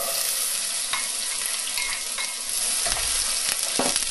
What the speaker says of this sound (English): fry your 1 diced onion